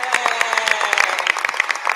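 An audience at a press conference claps, a dense patter of overlapping hand claps at moderate distance with a faint murmur of voices beneath.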